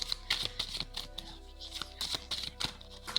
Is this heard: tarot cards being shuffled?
yes